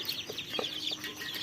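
Young chicks in a brooder box give a run of high, thin peeps in quick, uneven succession, close by over a faint steady hum, with no voices.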